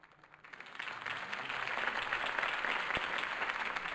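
Crowd applause after a political campaign speech in Batman: The Telltale Series, a dense wash of clapping that swells in after half a second and holds steady at a moderate, somewhat distant level.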